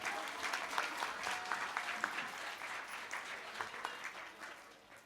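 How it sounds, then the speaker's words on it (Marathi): An audience at a school Marathi Day program applauds for the young students, a sustained round of clapping from many hands that fades slightly toward the end. "तुम्ही सर्व वाजवताय ना आमच्या बालगोपाळांसाठी टाळ्या"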